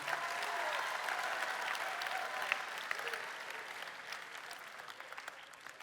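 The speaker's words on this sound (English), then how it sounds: "Let's give our coaches a big round of applause." A church student-ministry audience gives its coaches a steady round of applause, a dense, even wash of many hands clapping at moderate distance that slowly tapers over several seconds.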